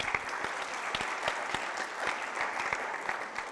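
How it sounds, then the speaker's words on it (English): Audience applause during a 2019 university panel event, with individual claps standing out in an even, moderately quiet patter from a crowd, heard alone without speech. "Give a big clap to Salim Al-Riyadh as well, please."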